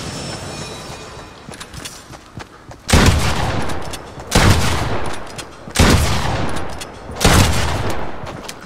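Shotgun blasts from the video game Fortnite at Loot Lake, four loud broadband bursts roughly every one and a half seconds, each with a sustained rumbling tail, over quieter game ambience with no talking.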